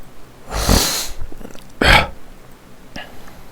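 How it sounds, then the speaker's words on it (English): Two loud sneezes in a row, each a sharp explosive burst, followed by a brief sniff or small gasp. "As soon as I'm starting a video, I have to sneeze."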